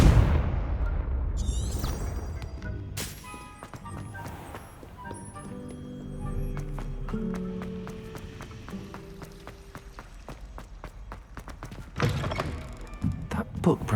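The Confringo blasting spell in the video game Hogwarts Legacy fires off with sharp thumping impacts and crackling bursts, followed by ringing magical tones and game ambience, then another burst near the end.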